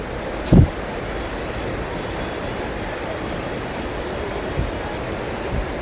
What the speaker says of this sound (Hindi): आप देख पा रहे होंगे किस तरह से आज भी उफान भरी लहरें हैं।